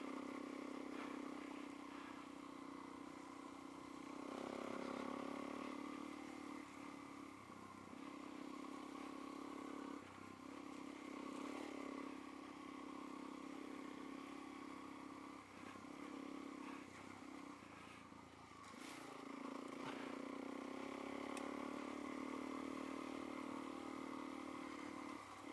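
Suzuki DRZ400S dirt bike engine on a rough trail ride, a steady close mid-pitched drone with engine pitch dropping and rising through gear changes and occasional clatter, running continuously throughout.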